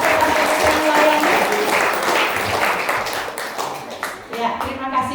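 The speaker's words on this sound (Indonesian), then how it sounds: "berikan tepuk tangan buat pastor-pastor yang melayani." A church congregation at a Christmas service claps for its pastors. The applause is loud and dense at first, then thins and fades out, and a voice comes in near the end.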